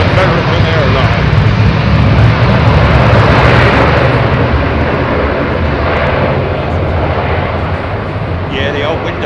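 An American Airlines airliner at London Heathrow Airport in the evening gives a loud, continuous engine roar that dominates throughout and eases slightly toward the end.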